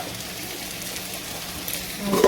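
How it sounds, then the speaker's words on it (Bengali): Curry being sautéed in a pan, a steady close sizzle and frying hiss throughout, swelling slightly louder with stirring noises toward the end, no voices. "এই যে তরকারিটা কষাচ্ছি"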